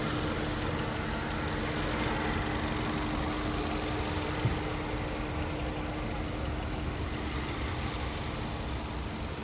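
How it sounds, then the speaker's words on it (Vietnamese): A 2020 Hyundai Accent with a 1.4 engine idles smoothly, a steady, even hum throughout with no talk over it. "máy móc của nó thì rất là êm ái này"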